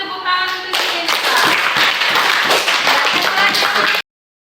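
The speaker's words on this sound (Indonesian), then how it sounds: "tepuk tangan untuk Irsa." Students in a classroom clap for a classmate, a dense, lively round of applause lasting about four seconds before cutting off abruptly.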